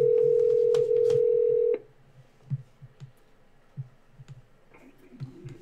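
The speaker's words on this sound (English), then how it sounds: "let's get Neil on the phone" A steady telephone tone sounds for almost two seconds, then cuts off, leaving quiet line noise with scattered faint ticks and clicks as a call is placed.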